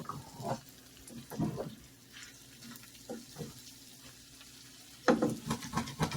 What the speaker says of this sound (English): We're just kind of trying to heat it and kind of get some crispy goodness on these hash browns.